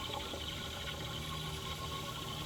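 Water sloshing and gurgling inside a liquid-loaded John Deere 4300 tractor tire, a continuous, even watery burble close to the listener with no talk.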